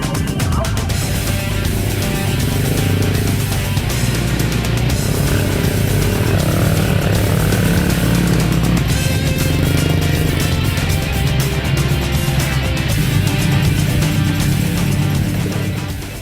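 A roofed motorcycle taxi labours along a muddy, slippery road, its engine a loud, continuous buzzing drone with revving surges and no pauses.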